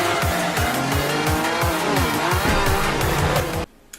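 Cars racing in Forza Horizon 2 with the Top Gear pack: loud, continuous engine roar with rising and falling revs and repeated gear shifts, tire squeal mixed in, cutting off abruptly near the end.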